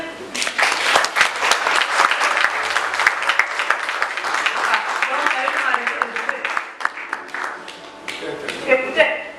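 A church congregation claps and cheers loudly and steadily, the dense applause lasting several seconds with voices mixed in before it thins toward the end.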